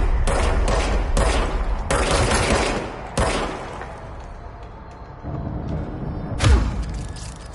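A gun fired in the video game Control, several rapid, loud shots in quick bursts over the first three seconds, then quieter ambience with one final heavy blast near the end.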